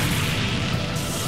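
A loud, sustained roaring blast fills the whole moment, a dense rumbling explosion with no pause, from the video game Naruto Shippuden Ultimate Ninja Storm 3.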